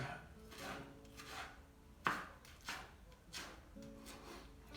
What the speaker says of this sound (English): The rest I can chop into the pasta.